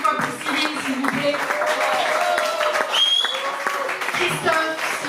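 An audience applauds a concert at La Zonmé in Nice, giving a performer an ovation after a performance. The clapping is dense and steady throughout, with faint voices mixed into the crowd.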